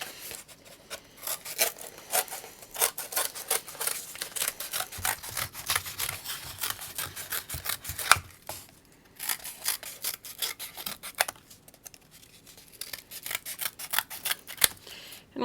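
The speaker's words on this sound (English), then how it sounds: "I'm just going to freehand cut it because it doesn't need to be perfect. But you're just going to want to cut out a circle." Scissors freehand-cut a circle from cardboard for a friendship bracelet loom: steady, rhythmic crunching snips repeat close by for the whole stretch, with brief pauses, and no talk.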